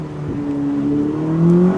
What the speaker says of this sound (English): those Italian V8s are just built different